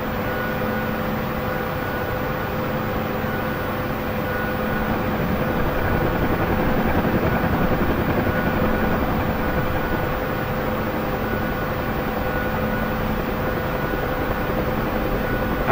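A UH-1 Huey helicopter lifting off in the DCS flight simulator, its turbine whine and rotor drone holding loud and steady throughout, swelling slightly midway, with no talking.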